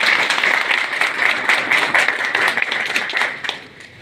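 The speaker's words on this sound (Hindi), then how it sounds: "जिनका हम पुरजोर तालियों में वेलकम करते हैं" An audience applauds to welcome an additional sessions judge as guest at a public gathering, a dense, fairly loud wash of clapping that thins and fades near the end.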